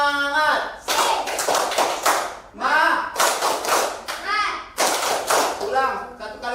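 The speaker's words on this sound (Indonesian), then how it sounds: "Tepuk semangat." A standing group, mostly children, performs a rhythmic spirit clap in a classroom, with bursts of sharp patterned claps and shouted chant between them, loud and close.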